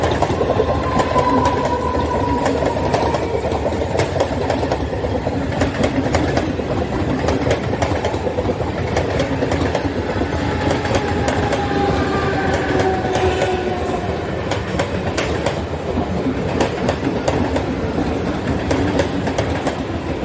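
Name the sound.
Mumbai Harbour Line local train running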